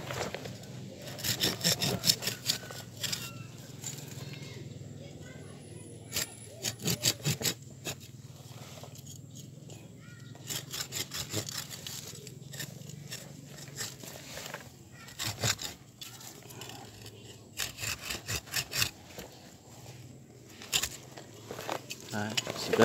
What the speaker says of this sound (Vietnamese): Cái gốc này bằng hai đầu ngón tay thì em sẽ dùng cưa nhé các bác.